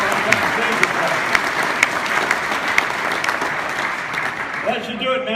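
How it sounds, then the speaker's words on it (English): An audience at the ICAS Hall of Fame induction claps loudly for the Aeroshell Aerobatic Team, sustained dense applause with a voice talking over it, fading out near the end. "Would you give Aeroshell a big round of applause?"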